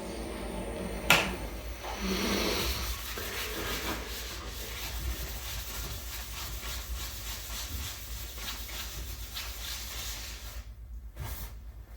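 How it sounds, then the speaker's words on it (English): Wooden pet urn lightly sanded with 1000 grit sandpaper, a continuous close rubbing scratch with rhythmic strokes, a sharp knock near the start and a short pause near the end. "I'm just going to lightly sand it and wipe that down"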